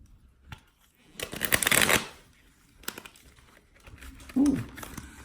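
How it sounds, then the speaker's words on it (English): A deck of tarot cards being shuffled by hand in quick riffling bursts, with a louder flurry early on and a softer one later, separated by near silence and a brief low voice. "Let's do my special shuffle."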